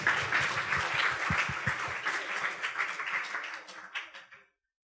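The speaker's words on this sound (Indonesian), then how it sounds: "Beri tepuk tangannya juga teman-teman yuk." Attendees at a university student orientation event applaud, a full round of clapping with a few louder individual claps early on, tapering and then stopping abruptly, with faint voices beneath.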